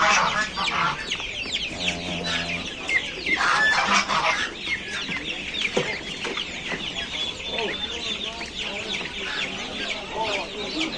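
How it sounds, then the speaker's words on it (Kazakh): Many small domestic chicks chirp and peep in a dense, continuous chorus at a poultry market in Bishkek, with clucking hens mixed in and people talking in the background. "Машта жөнөкөй балапандар, обычный домашний балапандар"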